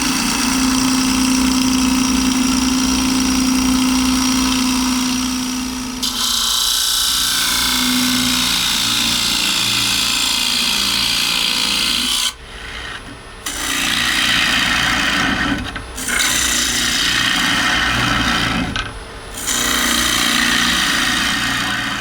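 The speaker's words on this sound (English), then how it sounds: "I'm then going to use the parting tool to cut in to give me a nice crisp, clean, straight edge, and start to set the depth of cut" A wood lathe turns an olive ash cup in a steady motor hum, with a parting tool and then a bowl gouge scraping and cutting loudly against the spinning wood in long passes broken by short pauses.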